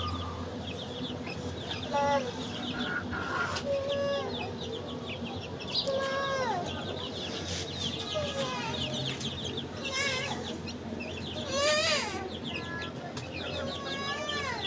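Chickens cluck and call repeatedly at a poultry-keeping setup, with overlapping bird calls including cooing pigeons, close and fairly steady across the recording with no talking.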